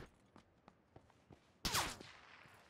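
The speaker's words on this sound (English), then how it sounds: "shots behind me" Gunfire from behind the player in PUBG: a few faint, sharp shots spaced through the first part, then one loud close blast with a brief ringing tail, no talking.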